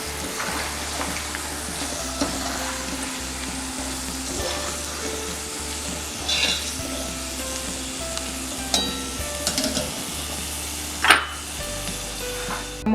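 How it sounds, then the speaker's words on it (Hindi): Peanuts fry in hot oil in a pan for an Indian poha chivda snack, a steady close sizzle with occasional stirring clinks and scrapes throughout, no voices. "उसी में हम मूंगफली तल लेंगे"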